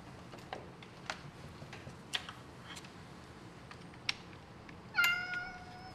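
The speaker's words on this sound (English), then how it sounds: "I hear you, cat." A cat meows once, clear and fairly close, near the end amid sparse clicks and ticks from a workbench where a 3D-printed winch bot is being assembled.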